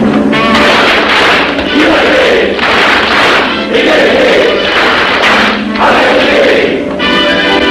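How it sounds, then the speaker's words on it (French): Masonic lodge brothers in a French ceremony answer with a triple battery of claps and a shouted acclamation, a loud, dense crowd roar of voices and claps that swells and dips in waves throughout. "À moi mes frères, par le signe, la triple batterie et l'acclamation."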